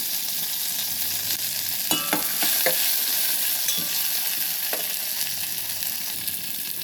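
Fresh coriander and mint stirred and frying in a steel pot while making tomato rice with brown rice, giving a steady close sizzle with a few sharp scrapes and clinks of the spoon against the metal.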